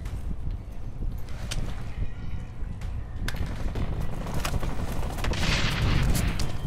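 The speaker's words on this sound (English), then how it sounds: "Things are already exploding at me." Explosions and gunfire in Blacklight: Retribution, a steady roar of battle with scattered sharp shots and a swelling blast near the end, loud throughout.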